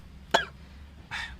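A person with a cold coughs twice, close and fairly loud: one sharp cough, a pause, then a softer second cough, with no talking.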